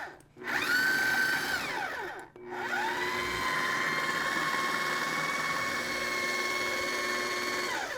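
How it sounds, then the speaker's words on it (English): A blender whirring shrimp into a paste, spinning up twice with a brief stop between, then running steadily with a high, even motor whine close by. "So let's take half of our shrimp. And go ahead and then just blitz it."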